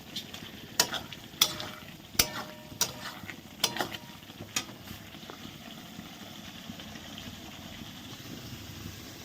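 Boiled soybeans fry in a kadai with poppy seed and mustard paste and turmeric. A soft sizzle runs throughout, broken by sharp, irregular clinks and scrapes of a spatula stirring against the pan.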